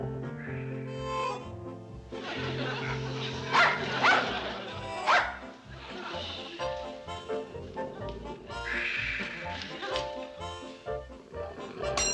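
A dog barks a few times at moderate distance in a rural sitcom scene from Petticoat Junction, under music and people talking.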